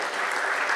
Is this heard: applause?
yes